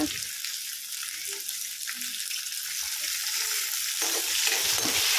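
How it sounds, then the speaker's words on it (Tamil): Coriander sprigs with small shallots and spices frying in a hot pan, a steady bright sizzle that runs continuously with faint stirring, no talk. "இது எல்லாத்தையும் லைட் ப்ரௌன் கலர் வர அளவுக்கு இந்த மாதிரி நல்லா ஃப்ரை பண்ணி எடுத்துக்கோங்க"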